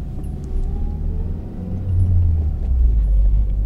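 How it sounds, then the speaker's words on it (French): A Ferrari engine rumbles low and steady as the car is parked, growing slightly louder and deeper toward the end, close by with no talking. "Je range la petite bagnole et tout est bon dans le cochon."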